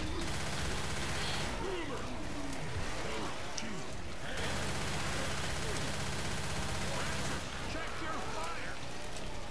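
Rapid bursts of gunfire from the zombie shooter Left 4 Dead 2, with repeated shots clattering over steady game ambience while players talk throughout.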